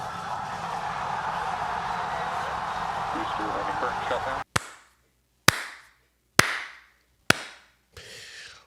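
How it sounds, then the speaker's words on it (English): A slow hand clap rings out as five single loud claps spaced about a second apart, each sharp and isolated with a short decay, following several seconds of a muffled, noisy room. "can we just have a slow hand clap"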